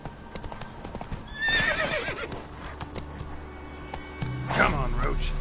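Hoofbeats of the horse Roach in the video game The Witcher 3, a steady clip-clop rhythm throughout, with loud whinnies and neighs rising over the galloping and a voice speaking alongside.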